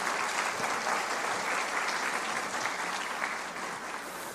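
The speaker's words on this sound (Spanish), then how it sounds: "Un aplauso, por favor." Steady, dense applause from an audience at a formal Mexican state judicial ceremony, holding evenly for several seconds before tapering slightly.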